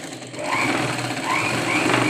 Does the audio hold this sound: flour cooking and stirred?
no